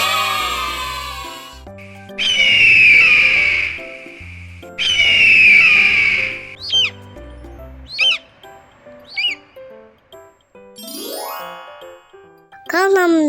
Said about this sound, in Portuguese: Águia.